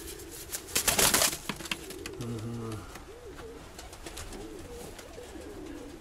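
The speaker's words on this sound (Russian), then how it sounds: "Вот такой голубенок у нас есть по рябам." Young pigeons softly cooing in a loft during a nest check, short low warbling calls against rustling and a burst of wing or handling noise, with a brief spoken interjection.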